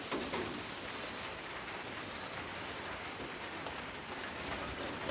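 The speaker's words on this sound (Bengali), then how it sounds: "ঝিরিঝিরি বৃষ্টি হচ্ছে আমাদের এই রাস্তাতে" Light drizzle falling on a street, a soft, steady hiss of fine raindrops on the surface, continuous and fairly quiet without any voices.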